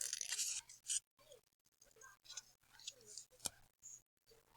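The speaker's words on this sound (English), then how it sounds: "So I have cut out 1, 2, 3, 4, 5 of those pieces" Scissors cut out small paper pieces in short, crisp snips and scraping strokes with brief silent gaps, close up and fairly quiet.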